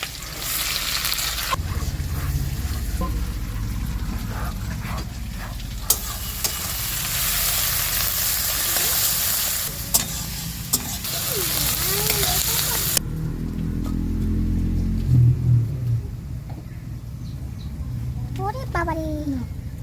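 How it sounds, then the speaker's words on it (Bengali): Garlic hits hot oil and crackles loudly in a pan while cooking greens with prawns and chicken, a sustained bright sizzle that later drops to quieter frying as a voice talks over it. "এবার তেল রসুনগুলো দিয়ে দেবো তেলের মধ্যে"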